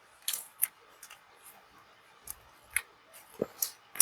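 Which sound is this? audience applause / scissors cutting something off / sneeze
scissors cutting something off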